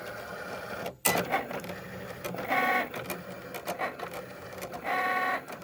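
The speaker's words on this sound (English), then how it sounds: "I just sent it off to the Cricut to cut" A Cricut cutting machine cutting vinyl letters for giant Scrabble tiles, with whirring motor runs and rapid mechanical chattering in bursts, close and fairly loud, no voices.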